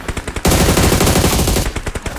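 Rapid automatic gunfire in a mobile battle royale game, a dense loud burst of shots lasting over a second, framed by short single shots before and after.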